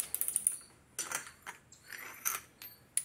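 A torque wrench on the fork bolt of a TW 200 motorcycle during a fork rebuild gives off a quick run of ratcheting clicks, then scattered metallic clacks and clinks of tools, close and without talk.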